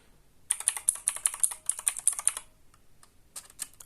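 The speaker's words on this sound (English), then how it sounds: "this is my old premium, very expensive keyboard that I purchased for myself" Typing on an old premium gaming keyboard, a quick run of sharp close-up key clacks in an even rhythm, a short pause, then a few more keystrokes.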